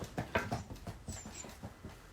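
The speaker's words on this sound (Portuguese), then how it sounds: "O cachorro quer falar." A dog makes brief, fairly faint whimpering or yelping noises in a few short bursts during a municipal council plenary session, with a low room background.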